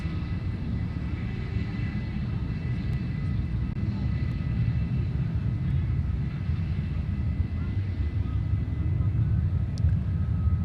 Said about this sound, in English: those last ones that were out were all F-22As, and I believe these are F-35As